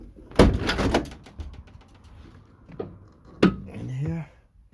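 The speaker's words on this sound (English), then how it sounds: "If I get the back door open," A campervan's back door is opened during a conversion build, giving a few loud clunks and rattles close by, followed by a short creak and scrape.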